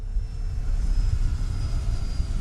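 A Freewing Yak 130 model jet flies overhead, its electric ducted fan giving a steady whooshing whine with a thin high tone, moderately loud and even over low wind rumble.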